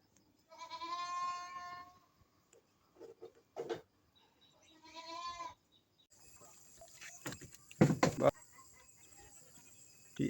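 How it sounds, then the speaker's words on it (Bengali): A goat bleats twice in wavering cries, close by, with scattered clatter and short bursts of noise between the calls. "ছাগলটা"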